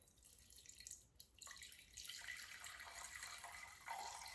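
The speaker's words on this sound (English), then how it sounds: "now I'm going to put water in here." Water poured from a tap into a flower vase holding chicken wire for an arrangement, a close, steady splashing and trickling stream that starts after a brief drip and runs on continuously.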